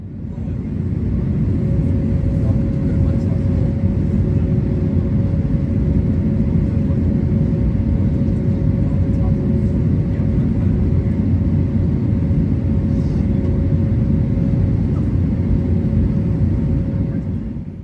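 A Frontier Airlines Airbus A321neo in flight fills the cabin with a steady, loud, continuous rumble and a faint constant hum, with no break for the whole stretch.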